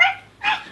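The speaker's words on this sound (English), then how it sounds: "Her only friend was a little dog named Toto" A small dog gives two quick, high yipping barks up close, with a brief pause between them, during a preschool Wizard of Oz stage performance.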